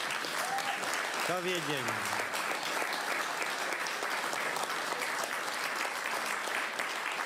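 An audience applauds steadily through a speech by a politician, a continuous wash of clapping that holds at an even level while a voice speaks briefly over it.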